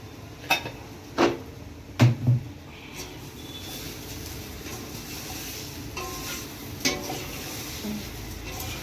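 Sesame seeds and sugar are stirred into patra with a utensil, a few distinct clinks and scrapes early on, then a softer steady background of faint stirring and quiet sizzle.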